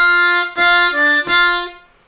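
A Bb harmonica plays a short blues lick from a song, starting on a 3/6 blow: three clear, sustained reedy notes in an offbeat rhythm, close and loud, then fading out.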